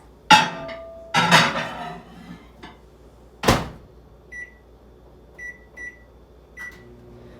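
A microwave oven set on high to heat mac and cheese: a few clunks and a door thump, then several short electronic beeps from the keypad as the cooking time is entered, with a low hum beneath.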